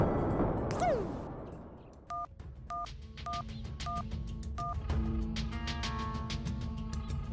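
Electronic keypad tones beep one after another as a number is dialed, followed by a steady ringing tone; a brief whistling sweep comes first.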